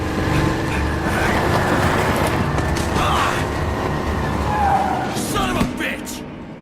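A truck is stolen and driven off in the video game Dead Rising 2: a loud, close engine roar with skidding tires, over a steady game background with a voice shouting.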